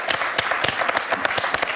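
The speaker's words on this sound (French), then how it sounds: "Donc on peut vraiment vous applaudir." Scattered clapping from a small audience for winner Hakim at a televised Sidaction charity evening, distinct individual claps rather than a dense roar, moderately loud and steady, with no talk.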